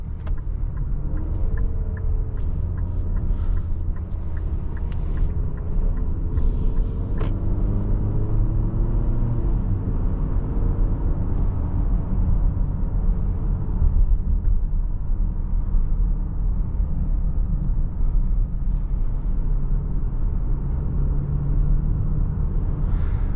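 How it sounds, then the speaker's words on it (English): A 2026 Infiniti QX60 Sport driven in Sport mode on a twisty road, a steady loud interior engine and road rumble with rising and falling pitch as it shifts and accelerates, no talk. "Put it into Sport mode for the twisty section. You'll see downshifts under braking."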